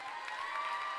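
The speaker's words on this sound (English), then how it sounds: "both groups will cheer" A crowd cheers and claps at a girls basketball game in a gym, a steady roar heard for only a moment.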